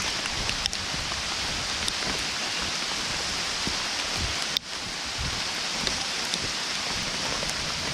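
Steady, dense rain pours down continuously on a construction site, a broad hiss of drops on surfaces with a single sharp knock partway through.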